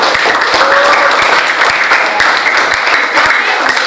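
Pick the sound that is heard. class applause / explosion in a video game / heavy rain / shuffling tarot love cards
class applause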